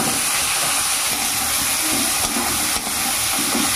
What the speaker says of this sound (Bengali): এবার এগুলোকে তেলে একটু ভালো করে ভেজে নেবো